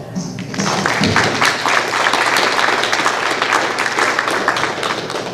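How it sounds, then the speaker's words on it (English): A council chambers audience gives a round of applause for a visiting delegation: steady, dense clapping from many hands that carries on for several seconds, with faint background voices. "I think if we can give our delegation a round of applause"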